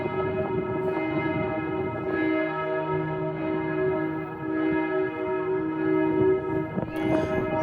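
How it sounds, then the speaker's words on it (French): Church bells of the Notre-Dame cathedral of Strasbourg ringing in sustained, overlapping tolls, heard from the street amid faint city background, with no talk over them. "Écoutez, on peut même entendre les cloches de la cathédrale sonner."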